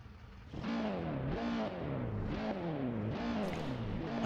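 A Honda touring car engine on a race circuit at Imola revs repeatedly in rising and falling sweeps, a loud, steady, buzzing engine note that holds throughout with no voices.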